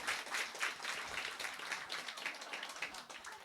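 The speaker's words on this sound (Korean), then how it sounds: "박수 한번 주세요, 여러분." A congregation applauds during a Sunday church worship service, with dense, steady clapping that holds at an even level for a few seconds.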